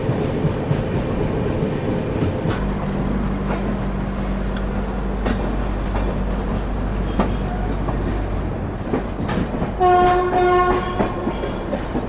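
A passenger train rolls slowly into Erode Junction, its steady rumble and clacking wheels filling the clip, a long horn sounding near the start and a brief horn burst near the end.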